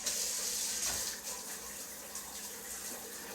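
A kitchen tap runs steadily while a whisk caked in pancake batter is rinsed under it. The hiss of running water is close and continuous, with faint shifting splashes as the whisk moves through the stream.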